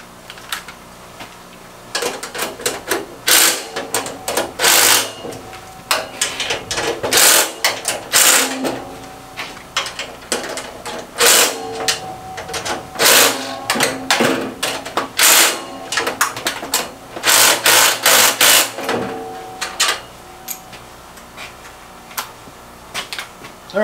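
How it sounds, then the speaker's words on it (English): Bolts being tightened with a ratcheting tool on a Harbor Freight 10-drawer steel tool cart: rapid, loud clicking bursts repeat in runs with short pauses, mixed with metallic handling clatter throughout. "at that point, all 16 of these bolts can get tightened up."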